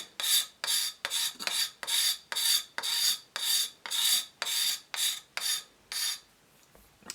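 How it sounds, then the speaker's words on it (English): A card scraper strips old finish from a wooden part of a Keen Kutter K4C plane in a steady run of about fourteen rhythmic rasping strokes, close and clear with no talking, then stops. "I've got a card scraper, and it does really well to just get the finish off quick"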